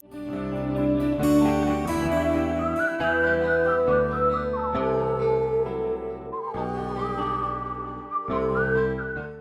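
A bright melodic whistle carries the tune over a full orchestral backing of strings and brass in Divinity 2 game music, loud and continuous throughout.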